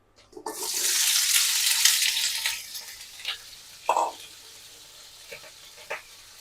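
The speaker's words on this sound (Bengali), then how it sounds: "আর এখন আমি মাছ ভাজা তেলের উপরেই দিয়ে দিব ফুলকপি আর আলু" Cauliflower and potatoes dropped into oil left over from frying fish: a loud hiss of sizzling erupts and slowly fades into quieter bubbling, broken by a few clinks from stirring.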